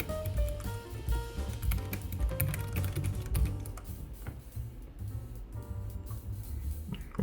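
Keystrokes on a Keychron K7 Bluetooth mechanical keyboard with mint keycaps, a steady, close run of quick clicky taps in an uneven typing rhythm, heard alone.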